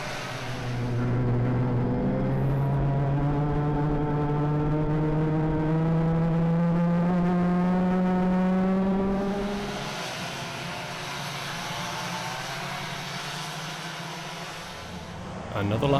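Heavyweight sprint racing karts lapping the Bayford Meadows track in a Club100 championship final, a loud rising engine whine that sweeps past and then fades to a lower drone, with commentary heard throughout.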